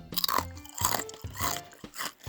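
Crunchy, warm homemade gluten-free, carb-free cheese crackers chewed up close, a series of crisp, loud crunching bites with short pauses between chews.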